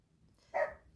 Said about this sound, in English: My dog was barking, so I had to go handle that situation